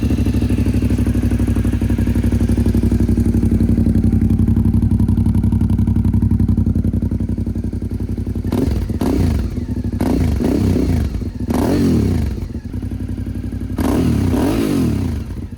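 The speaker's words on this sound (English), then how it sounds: "let's see how it sounds" A Suzuki V-Strom 650 motorcycle with a Delkevic aftermarket exhaust, silencer in, idles with a deep, loud, throbbing exhaust, then blips the throttle in several sharp revs that rise and fall back to idle.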